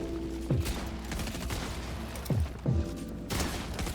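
SMG fire in Fortnite: several short, sharp bursts of rapid gunshots spaced a second or two apart, with game noise between them, up close and loud, no talk.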